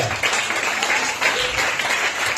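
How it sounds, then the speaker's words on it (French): Church congregation applauding during a Sunday service, a steady dense wash of clapping filling the whole stretch at moderate loudness, with faint voices mixed underneath. "Acclame bien Jésus de Nazareth."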